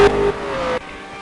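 Race cars at the Nürburgring, a Corvette battling a BMW: a loud engine note holding a steady pitch then dropping abruptly as it shifts or lifts, close and alone.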